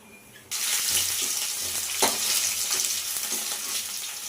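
Potatoes frying in hot oil in a home kitchen pan for a tempering of cumin and carom seeds, a steady loud sizzle that bursts in suddenly and crackles on continuously, with a sharper spit midway and no talking.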